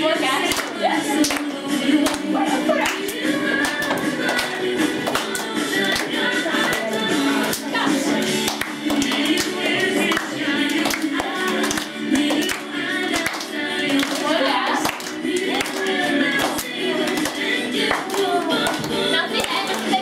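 A group of children claps in a game at a St. Nicholas party, keeping up a long run of quick, rhythmic claps with steady energy while voices chatter underneath.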